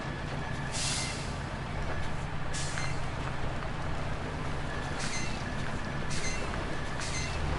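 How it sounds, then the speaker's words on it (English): Repeated sharp hisses of truck air brakes in the video game MudRunner burst out at irregular intervals over a continuous low engine rumble. "I'm hitting them air brakes constantly."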